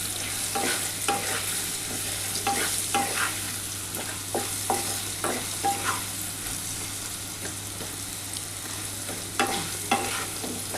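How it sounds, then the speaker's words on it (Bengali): Salt being stirred in a hot pan ahead of pumpkin greens for a vegetarian poppy-seed dish, with steady sizzling and repeated scraping strokes of a spatula, close and continuous with no voices. "আমি এটা আগে প্রথমে একটুখানি হালকা করে নাড়াচাড়া করে নিই।"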